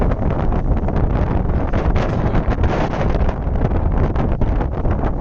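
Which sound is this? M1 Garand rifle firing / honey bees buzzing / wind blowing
wind blowing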